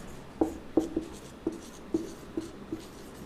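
Chalk tapping and scraping on a board during a physics lesson, about eight short sharp strokes spaced irregularly and close by, with no talk over them.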